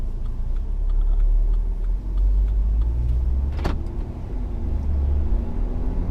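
Steady road drive in a 2017 BMW X3 xDrive28i heard from inside the cabin, with continuous low engine and tire rumble and a brief passing whoosh midway.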